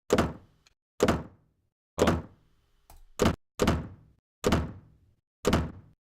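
A theatre door slammed again and again, used as source material for a Doom chaingun effect: seven sharp, close thuds, each with a short decaying tail, spaced roughly a second apart, with silence between them.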